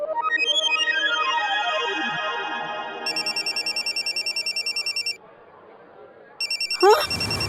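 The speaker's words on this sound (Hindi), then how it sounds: "नेताजी का वीडियो कॉल।" A video call ringtone chimes on a phone, a repeating electronic melody that rings loud and close in bursts, pauses briefly, then resumes before being cut off by a sweeping effect.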